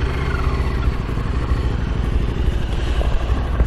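The V-twin engine of a 2015 Harley-Davidson V-Rod Muscle motorcycle runs close by just after starting, giving a loud, lumpy, rapid chugging idle with mechanical clatter.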